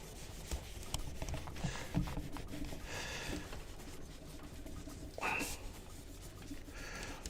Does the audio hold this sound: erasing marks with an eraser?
yes